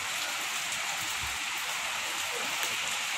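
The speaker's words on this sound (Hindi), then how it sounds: "और यहाँ पे बारिश काफ़ी ज़ोरों शोरों से आ रही है" Heavy rain falling outdoors, a steady, dense hiss of rain at constant loudness throughout with no clear talk.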